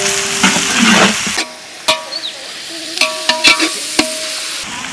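Green chillies sizzling in hot ghee in a pan with cinnamon, cloves and onions, stirred with a spoon that scrapes and clinks in short bursts against the quieter background of frying.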